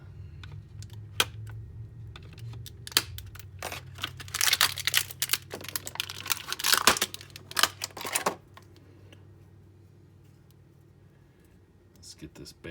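An action figure is cut free of plastic packaging with sharp snips and crinkling plastic, the clipping clustered mid-way and set among quiet talk.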